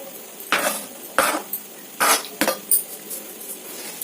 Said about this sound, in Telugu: బాగా మెత్తగా మ్యాష్ చేసేయండి.